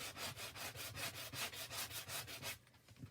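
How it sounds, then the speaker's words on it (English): A handheld sanding block rubs back and forth along the sides of a chalk-painted wooden craft piece, giving a steady run of close, rhythmic scraping strokes about every quarter second that stop near the end. "And you're just going to sand the sides."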